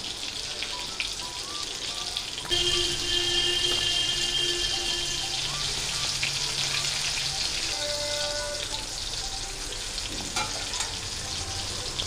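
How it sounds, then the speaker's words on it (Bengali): Mola fish fritters fry in oil over medium heat, giving a steady, even sizzle and crackle that runs throughout, with a slight surge after a couple of seconds and no voices. "মিডিয়াম আছে আমি বড়াটাকে ভাজবো"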